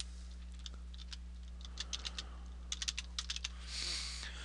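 Typing on a computer keyboard while entering a name and password at a sign-in screen, soft scattered key clicks that pick up into quick bursts of several keystrokes, close and quiet over a steady electrical hum.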